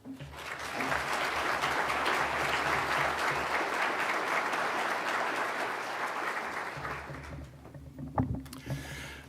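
Sustained audience applause at a school event welcoming the Reverend Paul Harrington swells quickly, holds as a dense, even roar of clapping for several seconds, then thins out and fades.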